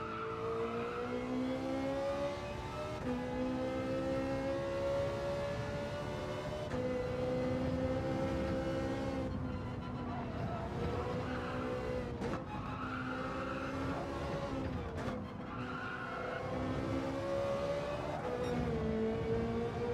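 A Ferrari race car engine in Gran Turismo 7 drones loudly through repeated upshifts, each gear rising in pitch then dropping, with brief lifts off the throttle and tire squeal mixed in over a steady racing roar.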